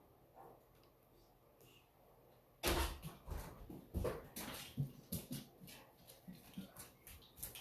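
A dog indoors in a crafting room makes a run of scuffling, clicking and whimpering noises, starting abruptly and continuing in uneven bursts close to the microphone.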